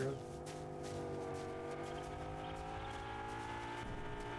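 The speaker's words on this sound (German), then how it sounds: "der fährt mit dem Auto" Car engine in Fortnite droning with steady harmonic tones, rising and shifting pitch as it drives, over game noise with a voice talking over it.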